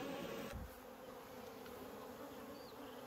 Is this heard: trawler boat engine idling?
no